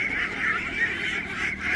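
Ducks on a duck farm give a dense, continuous chorus of nasal quacks and honks from many birds at once, loud and close.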